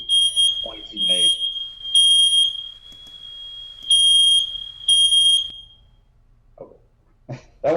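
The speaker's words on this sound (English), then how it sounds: "That wasn't my fire or smoke alarm, thank goodness." Loud, shrill smoke alarm beeps sound in several long bursts close to the microphone during a city council meeting, then stop, followed by a few brief voice sounds.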